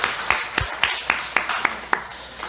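A church congregation claps in welcome for newcomers during a worship service, with about eight sparse, separate claps in a loose rhythm against a quiet room.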